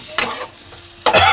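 Chicken mince sautéed in a pan gives two short, loud bursts of sizzling and scraping close by, with a quieter hiss in between.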